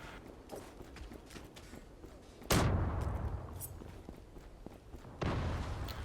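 Two loud bomb blasts from the video game Zula burst in a few seconds apart, each a sudden broadband boom that slowly fades, over quieter scattered shots and footstep-like clatter.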